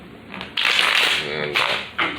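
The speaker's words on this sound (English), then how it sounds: "let me shuffle these cards real quick" A deck of cards is shuffled by hand in a few quick riffling bursts, close and fairly loud, with brief pauses between passes.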